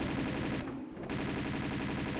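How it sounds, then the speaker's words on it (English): Lara's pistols in Tomb Raider II on PS1 fire in a rapid, steady stream of close gunshots, with a brief break midway. "Why'd you get your pistols out, Lara?"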